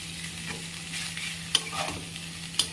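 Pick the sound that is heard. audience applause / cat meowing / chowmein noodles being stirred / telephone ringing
chowmein noodles being stirred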